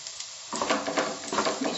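Garlic, cumin and green chillies sizzle in a hot pan while cooking Karnataka-style lemon rice, a quiet hiss that jumps up sharply as the spices go in, with a scrape or two of stirring.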